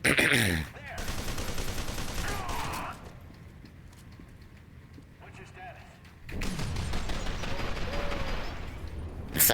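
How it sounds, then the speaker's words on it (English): Combat shotgun blasts from the shooter game F.E.A.R. 2, loud booming shots at the start and again in the final seconds with quieter game ambience between, under a voice talking. "I should switch to the combat shotgun"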